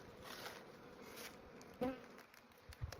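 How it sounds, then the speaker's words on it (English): Honeybees buzz around a hive in a steady, faint drone, close by and continuous, with a couple of soft bumps near the end. "So this one also has bees in it, it looks like."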